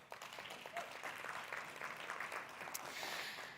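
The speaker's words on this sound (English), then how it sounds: "Round of applause." Audience applause welcoming panelists onto a stage at a sustainability conference, a soft, distant, continuous patter of many hands without a clear break.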